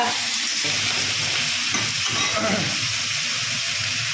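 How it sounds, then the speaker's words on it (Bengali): Radish greens fry in a pan with a continuous loud hiss and sizzle and faint stirring scrapes, with no voice heard over the cooking. "মূলো শাক ভাজা"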